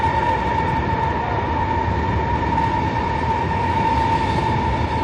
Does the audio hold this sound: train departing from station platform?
yes